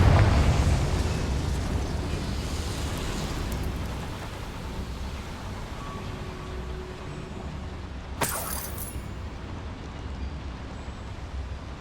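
Confringo blasting spell in Hogwarts Legacy opening with a heavy rumbling explosion that fades into a low roaring wash, followed by a sharp crack partway through.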